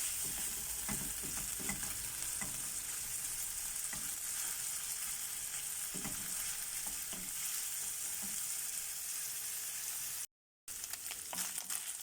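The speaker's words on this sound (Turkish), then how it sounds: "Güzelce kıymamı kavurdum." Ground meat sizzles steadily in a little oil in a pan for a béchamel potato bake, with occasional stirring scrapes and a short dropout near the end; no voices.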